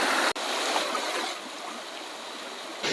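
Water flows steadily in a stream, a continuous close rushing hiss with a brief dropout near the start.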